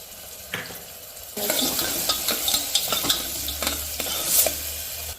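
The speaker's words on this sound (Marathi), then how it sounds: "घरगुती लसणाची पेस्ट बनवली आहे ती आपण कांद्यामध्ये भाजून घेणार आहे" Homemade garlic paste hits frying onion in a pan with a sudden rise in sizzle, followed by repeated spoon stirs and scrapes against the metal over a loud continuous hiss.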